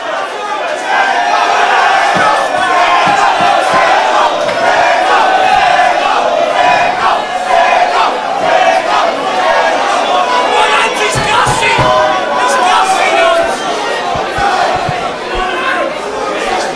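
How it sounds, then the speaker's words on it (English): Loud, continuous roar of an MMA fight crowd at a 93 kg bout, cheering and shouting throughout with dense overlapping voices and occasional sharper yells. "Listen to this crowd."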